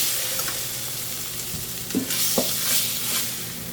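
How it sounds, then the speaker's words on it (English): Browned beef pieces scraped and lifted from a hot frying pan into a pot, with steady loud sizzling throughout and a few clinks and scrapes of the utensil against the pan, up close with no talk. "we're taking the last of our beef out of the pan"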